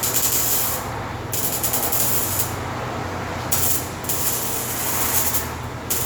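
A welding torch sputters while burning through thin car body metal on an Acura repair, a harsh continuous hiss broken by short stuttering gaps and chopping pauses, close and steady.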